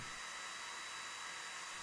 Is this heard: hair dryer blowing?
yes